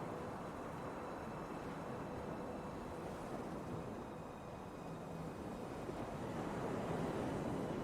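Open ocean at night in Kerbal Space Program 2, a quiet, steady wash of waves and soft wind, even and unbroken with no voices.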